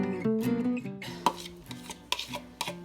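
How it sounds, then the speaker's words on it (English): Sautéed carrots and onion tumble into a stovetop pot of old-fashioned loaded potato soup, with a few soft clatters and scraping knocks against the pot beneath faint background music. "And you add your sauteed carrots and onion."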